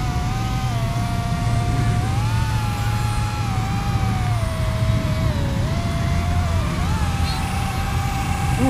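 The motors of an iFlight Strider X2 Stretch 122mm drone run at full throttle with a steady high-pitched whine that wavers slightly in pitch. The sound is continuous and fairly close, with no talk over it.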